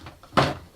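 A drawer being opened during a makeup routine at home gives one short, close scraping thud that fades quickly, with no talk.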